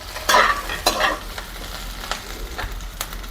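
Bitter gourd going into a pan of roasted chillies, a brief burst of sizzling and a few spatula scrapes over a low steady hiss.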